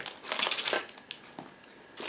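Thin plastic bag crinkling as a one-piece part from an IBG Models 1/35 Chevrolet C30A General Service model kit is handled, close and dry, in several rustling bursts with brief pauses between them.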